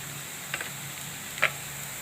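Onion, browned until reddish, sizzling in a pan as spices go in, a soft continuous fry with two brief sharp clicks from a utensil.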